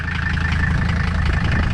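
A Mercedes 300 Turbo Diesel idles with a straight-pipe exhaust routed down from the turbo and out the side: a steady, rough, close-up diesel rumble with a faint knocking pulse and no pauses.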